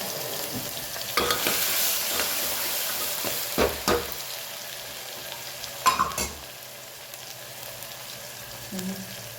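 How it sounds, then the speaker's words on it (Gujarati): Cumin, asafoetida and tomato sizzle steadily in hot oil, with a spoon scraping and tapping against the pan at irregular moments, close and fairly clear. "જીરું, હિંગ અને ટામેટું એડ કરી."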